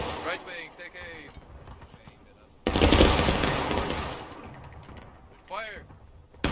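Massed musket volley in the Civil War game War of Rights: a loud, dense burst of rifle fire erupts mid-clip and crackles on for about two seconds before fading, with shouted commands and voice chat before and after.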